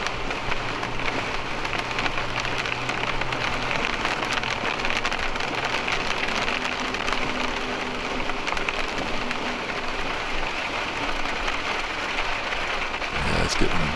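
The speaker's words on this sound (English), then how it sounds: "Here it is again. The rain's picking up." Heavy rain drums on a motorhome driving through a highway construction zone, a dense continuous patter under the low rumble of the engine and road noise, with a brief knock near the end.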